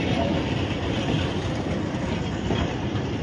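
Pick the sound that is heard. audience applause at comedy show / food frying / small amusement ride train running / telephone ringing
small amusement ride train running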